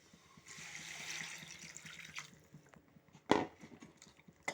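Tamarind water pours and splashes into a pot for a brinjal and drumstick tamarind kuzhambu, a soft close trickle followed by a few louder sloshes and clinks, faint overall.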